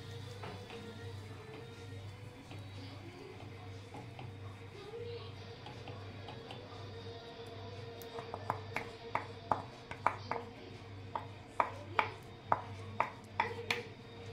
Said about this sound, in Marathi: आता याच्यामध्ये मी पीठ घालून घेते आणि इकडे एका चमच्याने हलवून घेते असं।